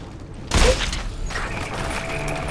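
Gunfire in the video game Crysis 3, a single loud burst at the start followed by a sustained noisy wash of game action and low rumble.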